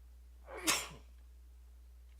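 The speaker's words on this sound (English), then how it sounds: "I've been sneezing like crazy today." A single sharp human sneeze bursts out with a quick inhale build-up, fairly close but quiet overall, followed by near silence and a faint click.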